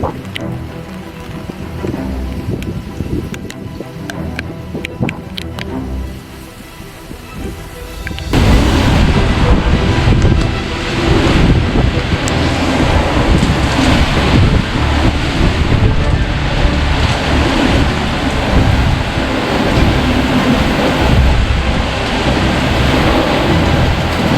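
Loud, roaring gusts of typhoon wind during all-day rain buffet the microphone, rising sharply partway through and staying heavy and continuous.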